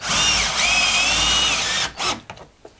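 A power drill drives a Torx head screw into the back of a kitchen cabinet. A loud, steady whine holds for about two seconds, then stops abruptly and leaves a few faint clicks and taps.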